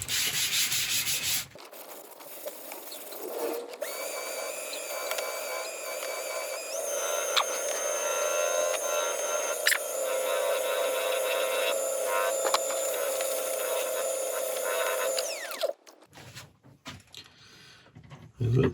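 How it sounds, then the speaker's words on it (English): A turned wooden bowl with a resin eyeball inlay spins on a lathe while abrasive paste is buffed onto it, making a steady close rubbing, sanding hiss that runs unbroken for about fourteen seconds and then stops, leaving faint handling noises. "I'm just going to give it a going over with some abrasive paste, just to help make this as smooth a surface as we can"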